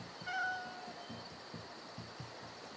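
A cat in the stealth western video game Desperados 3 lets out a single short, faint meow over a quiet, rhythmically pulsing game soundtrack.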